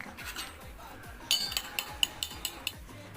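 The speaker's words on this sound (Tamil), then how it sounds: "முட்டையை நல்லா அரைச்சிக்கலாம்." A utensil beats eggs in a bowl for egg kulambu, giving a run of light, quick metallic clinks. The taps are close and fairly regular, with soft background noise beneath them.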